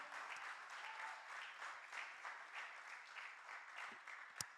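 A church congregation claps together in sustained, dense applause, even and moderately distant, with a single sharp knock near the end and no talk over it.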